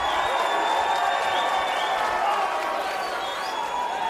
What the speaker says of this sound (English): Fans on their feet, cheering on to Crazy Hawaiian.